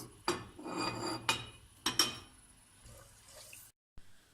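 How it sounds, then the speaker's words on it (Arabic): Almonds being toasted in a pan while preparing stuffed squash with rice, with a few sharp scraping and clinking strokes of a utensil against the pan over a soft background, then quieter rattling. "هلا بدي ابلش احمص المكسرات. ببلش اول باللوز"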